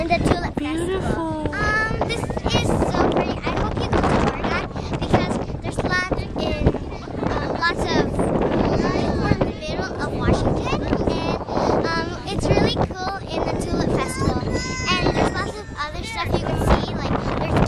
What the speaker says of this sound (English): It's windy today in the tulip festival.